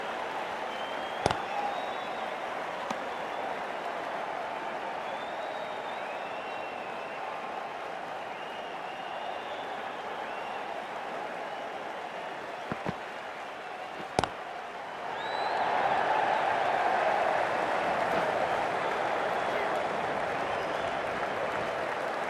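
A cricket stadium crowd applauds steadily as a broad wash of clapping, swelling louder near the end, with a few sharp knocks standing out along the way.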